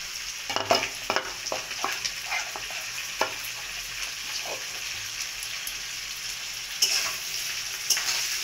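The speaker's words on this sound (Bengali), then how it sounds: "পেঁয়াজ কুচিটা দিয়ে বেশ খানিকক্ষণ নাড়াচাড়া করবো, ভালো করে ভাজা হবে।" Chopped onion and tomato fry in a pan while being stirred, a moderate continuous sizzle broken by scraping clinks of the utensil against the pan. No one speaks.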